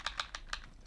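Quick typing on a computer keyboard, about five crisp keystrokes in under a second, close and clear with no talking.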